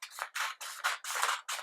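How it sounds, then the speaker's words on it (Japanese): Scissors snipping through origami paper, about five quick close cuts in a steady rhythm as slits are cut partway up a sheet for a windsock decoration. "で、ハサミを入れて、"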